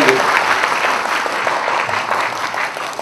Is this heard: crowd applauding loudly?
yes